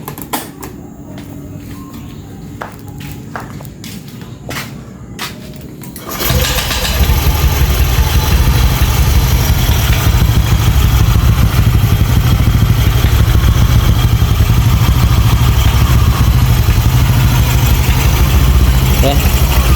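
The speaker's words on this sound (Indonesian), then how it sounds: "Oke, langsamnya naik turun karena efek dari noken as ya." A Yamaha Aerox 180cc scooter with an aftermarket camshaft fires up partway through, then idles loudly and close with a rough, rising-and-falling idle; faint background noise before the start.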